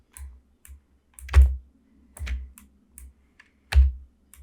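Sparse clicks from a computer keyboard during 3D modeling work in Maya, a few sharp key presses spaced irregularly with near silence between them, close to the mic.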